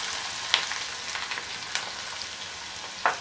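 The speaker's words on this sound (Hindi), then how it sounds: "फिर भी बहुत अच्छे से क्रैकल हो रहा है।" Green chillies and ginger crackling in hot oil off the heat for a carrot pickle, a close steady frying hiss with scattered sharp pops and spits, no voices.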